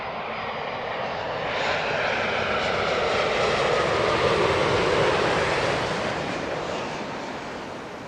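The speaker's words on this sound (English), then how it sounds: "Yeah, Canada Dreamliner there" An Air Canada Boeing Dreamliner passes at Heathrow, its jet engines a broad rushing roar that swells to a peak mid-way and then slowly fades.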